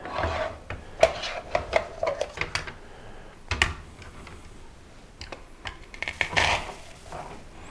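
An onion is cut with a small galley slicer, giving irregular scraping and crisp tapping strokes, some quick and clustered, some spaced out, with brief quiet gaps between bursts.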